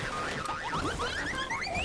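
An iPhone alarm tone plays as a rising and falling melodic electronic chirp, steady and moderately loud over a dense noisy background.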